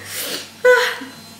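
A single sudden sneeze bursts out after a short breathy intake, caused by dust on a perfume bottle. It is close and fairly loud.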